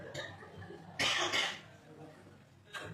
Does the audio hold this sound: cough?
yes